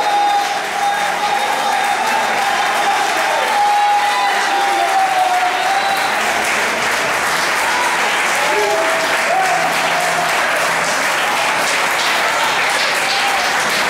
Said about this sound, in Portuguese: Se você quer aplaudir o Senhor nessa noite.